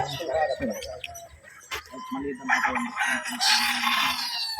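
A tall Sweater-Gilmore gamefowl rooster crows amid other fowl on a farm, a drawn-out call rising over the background with chirping birds and voices nearby.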